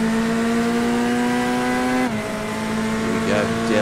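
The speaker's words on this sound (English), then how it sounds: "you can hear that Mustang engine. It does sound very, very good" A Ford Mustang GT3 race car in iRacing on the Nürburgring roars at high revs, a sustained loud engine tone that drops in pitch at a gear change and climbs again, with commentary over it.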